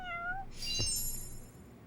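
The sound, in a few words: cat meowing in the video game Lost Judgment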